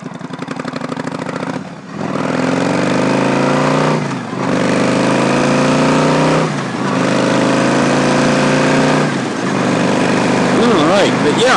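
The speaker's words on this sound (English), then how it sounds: "it's a nice little running motorcycle, a little rebuilt title, just your traditional cruiser type, traditional cruiser motorcycle, nice and loud" A 2007 Yamaha V-Star 1100 Classic cruiser motorcycle runs loud and close with a steady throbbing V-twin note, its revs dipping and rising several times, while someone talks over it.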